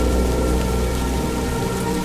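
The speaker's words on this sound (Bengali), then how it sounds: "বাইরে আকাশ ভরা অন্ধকারকে ভিজিয়ে হুড় হুড় করে বৃষ্টি পড়ছে" Heavy rain pours down during a stormy night with gusting wind, making a loud, dense, unbroken downpour that fills the whole stretch with no voices.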